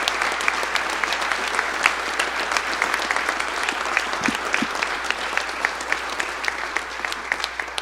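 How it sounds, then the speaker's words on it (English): Sustained applause fills a hall at a college athletic hall of fame banquet honoring inductees, steady dense clapping from a large seated audience throughout. "one more round of applause for all the inductees"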